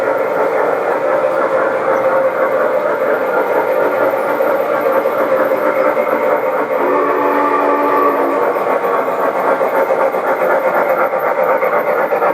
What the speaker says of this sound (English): that's where the term G-gauge or garden railway comes in.